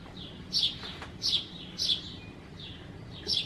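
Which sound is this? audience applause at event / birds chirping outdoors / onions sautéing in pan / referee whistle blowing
birds chirping outdoors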